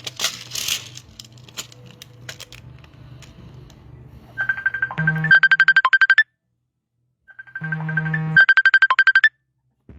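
A phone ringtone for an incoming call plays in two bursts of bright repeating electronic tones, with a pause between them, after quiet clinking of bolts in the background.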